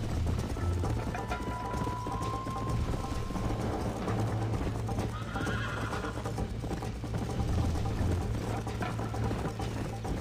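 A horse in the Red Dead Redemption video game trots along with steady clip-clopping hooves and a clear neigh, the hoofbeats continuous and close under a busy game soundscape, with no talk over them.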